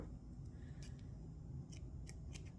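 Scissors snip through violet crochet yarn, a few short crisp cuts close by, fairly quiet, with no talking.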